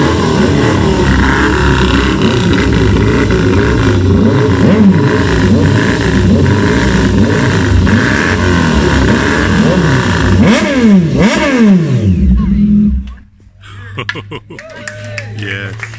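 A Triumph motorcycle rides in with a steady, loud engine roar, then revs rise and fall before it drops to a low idle. People talk over the engine noise.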